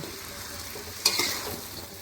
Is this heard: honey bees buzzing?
no